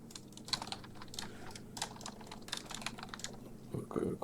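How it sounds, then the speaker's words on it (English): Typing on a computer keyboard produces soft, irregular clusters of key clicks close by during note-taking for an SEO audit, with a quiet voice briefly heard near the end. "I'm just going to write some notes down."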